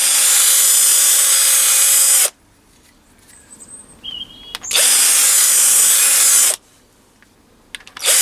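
A power tool deburring a brass thread, whining loudly in two bursts of about two seconds each, separated by a quieter pause with small clicks and handling noises.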